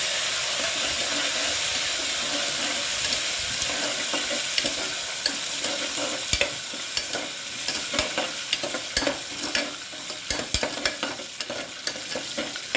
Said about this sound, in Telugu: పచ్చిమిరపకాయ, గ్రీన్ చిల్లీ వేగాక